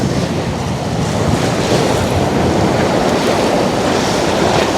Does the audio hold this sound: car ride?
no